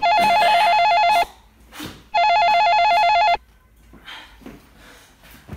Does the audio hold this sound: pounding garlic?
no